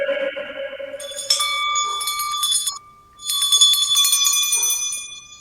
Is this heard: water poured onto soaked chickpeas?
no